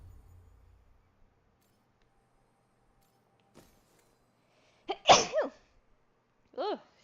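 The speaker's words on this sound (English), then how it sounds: "I gotta sneeze." A single person sneezes at close range in a quiet room, two sharp bursts in quick succession followed by a short clipped third, with faint rustling beforehand.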